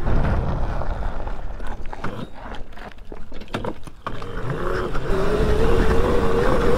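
A Razor MX650 electric pit bike upgraded to 72V ridden on a dirt track, its motor giving a steady whine and roar close by that rises in pitch as it speeds up toward the end.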